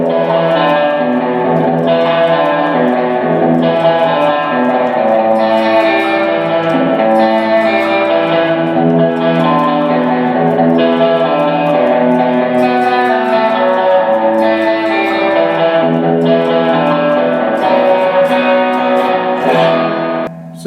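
A sustained, swirling organ chord plays through a Leslie 910 rotary speaker at slow speed, washed in lush reverb with a gentle, pulsing shimmer.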